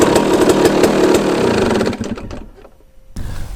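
A KTM 250 SX two-stroke dirt bike engine, freshly rejetted, revs loudly with a raspy buzzing drone that holds steady, then drops off and sputters down to near idle before a short burst returns at the end.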